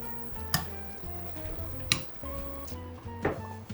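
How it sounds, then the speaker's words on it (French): Pieces of meat dropped back into a pot of thickened, simmering sauce for a Christmas dish: a soft steady sizzle and bubbling, with a few sharp clinks of a utensil against the pot. "on va remettre les morceaux de viande dans cette sauce-là."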